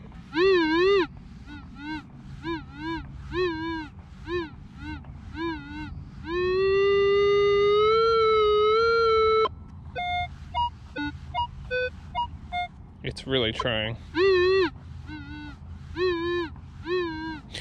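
A metal detector pinpointer gives off repeated warbling electronic beeps over a buried dime, then a long steady tone, with brief speech and handling noise near the end.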